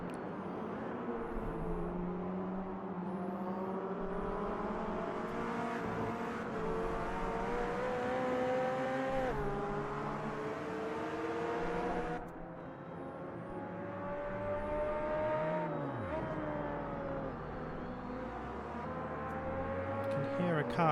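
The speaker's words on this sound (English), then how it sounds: "Hear a car revving" A GT4 race car revving in a sim racing game at the Nürburgring GP circuit, its engine note rising and falling through several long sweeps, mid-loud and continuous, with a second car's drone underneath.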